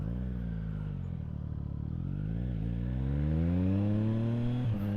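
A Triumph Street Triple motorcycle accelerating. The engine note climbs steadily through the revs, then dips briefly at a gear change, over steady wind rush at speed with no talk.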